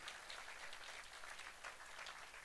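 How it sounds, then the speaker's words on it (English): Congregation clapping during a church service, a steady, dense wash of many hands applauding together for the whole stretch, moderately distant and even in level, with no talk over it. "if you want to clap unto God, do it very well."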